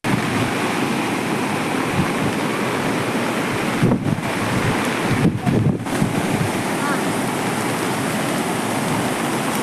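Floodwater from an overflowing pond rushing over its embankment where an RTC bus is stranded, a loud continuous roaring wash buffeted by wind across the microphone, with a few brief dips.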